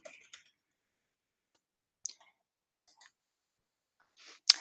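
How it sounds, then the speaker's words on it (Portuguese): Several sharp mouse clicks in quiet room while saving a file in Ansys software, scattered singly and in small pairs with silence between. "Cliquem aqui em cima para salvar"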